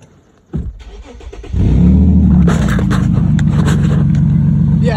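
Infiniti G35 with a Magnaflow exhaust and only the cats fitted starts up: a brief crank, then the engine catches into a loud, deep, rumbling idle close by, with a voice briefly audible over it.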